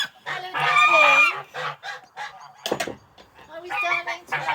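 A gander honks repeatedly in the evening, loud harmonic calls in bursts, some long and drawn out, with short pauses between them and no talk over them.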